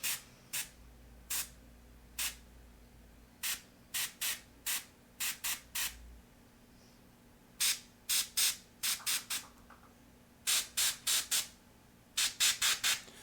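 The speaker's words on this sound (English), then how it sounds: "It's mixing up her super secret airbrushing." An airbrush sprays paint in short, sharp hissing bursts, some single and some in quick clusters of three or four, close and clear over a quiet background.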